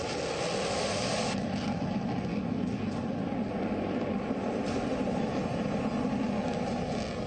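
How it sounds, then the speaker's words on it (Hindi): A loud, continuous roar of fighter jet engines fills the whole stretch, steady and broadband like jets passing overhead. "हवा में उड़ते लड़ाकू विमान"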